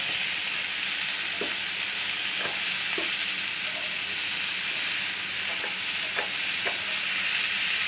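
Ready-cooked mussels are stir-fried in a pan, a constant loud sizzle broken by several distinct scrapes and clacks of the spatula, with no speech.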